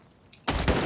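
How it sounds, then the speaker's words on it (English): A short burst of automatic gunfire from a burst-fire weapon in Battlefield 4, played in a match. It cracks in loudly after a near-silent half second with faint blips, then holds as a dense, close, continuous volley. "It's burst fire, so I haven't actually used a burst fire weapon in this game before."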